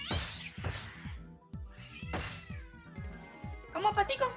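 A kitten meows several times as a sound effect during a Streets of Rage 4 stream, with short cries repeating over rhythmic game thumps and music.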